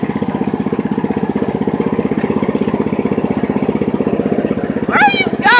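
Lawn mower engine running steadily close by, a loud rhythmic chugging throbbing throughout, with a brief rising rev near the end.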